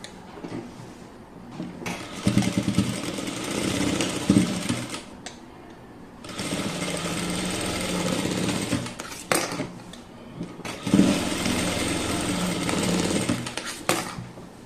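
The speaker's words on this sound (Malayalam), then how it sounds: "ഷോൾഡർ ഒന്ന് സ്റ്റിച്ച് ചെയ്യാം" A domestic sewing machine stitches the shoulder seam of a blouse in three sustained runs of fast, steady mechanical whirring, each several seconds long and separated by brief pauses, close by with no talking.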